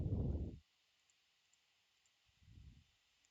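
A computer mouse gives two short, soft clicks, about two seconds apart, with quiet between them. The room is otherwise still and no one speaks.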